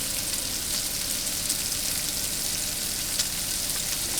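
Food sizzles and fries steadily in a hot pan, a dense continuous crackling hiss that stays even throughout with no talking.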